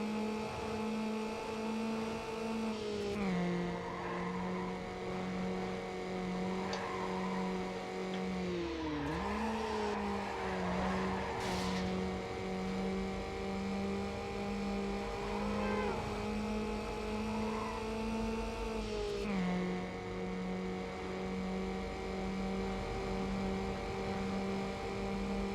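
Front-wheel-drive car in the Need For Speed Underground racing game, its engine droning steadily and loud throughout, with pitch shifting at gear changes and brief tire skid noise midway.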